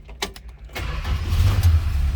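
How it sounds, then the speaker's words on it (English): A 1966 Dodge Dart's 225 cubic inch slant six cranks briefly and then catches, settling into a steady, close, rumbling idle, with a few clicks and switch sounds before it fires. "let's go ahead and fire this up so you can hear it run"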